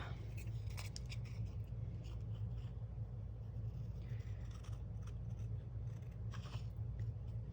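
Scissors snip and trim through heavy-duty material in a few quiet cuts over a steady low rumble, with no one talking.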